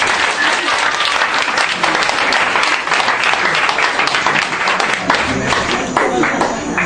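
A church congregation applauding loudly and continuously to acclaim Jesus Christ, dense sustained clapping from a large crowd filling the room, with some voices mixed in.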